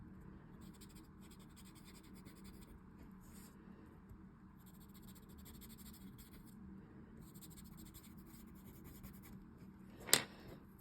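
A pastel pencil shading across paper gives a faint, steady scratchy rasp that runs continuously, ending with one sharper tap.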